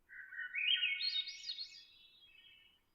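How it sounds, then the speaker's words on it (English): A Swainson's thrush sings a single rising, flute-like spiral phrase that climbs and then trails off, moderately near and alone with no talking. "the old Swainson's thrush"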